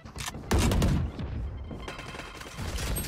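Rapid gunfire crackles in Valorant, with a dense, loud burst of shots near the start and then more scattered shots and clatter over a continuous background.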